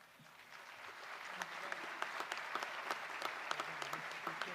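A graduation audience at a high school ceremony claps steadily and warmly, with a dense field of close and distant hand claps building slightly in volume and continuing evenly throughout.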